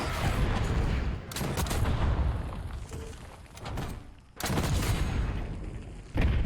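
Gunfire in the shooter game Black Ops 6: rapid automatic bursts in several clusters, loud and dense, separated by short quieter gaps with background game noise.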